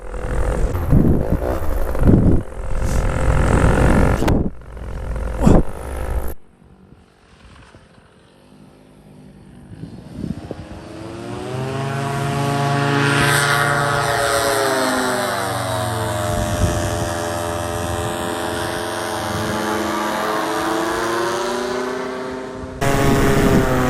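A Twistair rodeo frame FPV drone takes to the air, its motors rising into a loud, sweeping buzzing whine that swells and shifts pitch as it flies, after a few short bursts of throttle.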